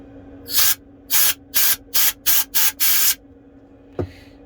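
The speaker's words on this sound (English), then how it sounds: "give it a nice compressed air blow like this" Compressed air blown into the port of an iPhone 12 to clear dust: seven sharp, loud hissing bursts in quick succession, then a single short knock.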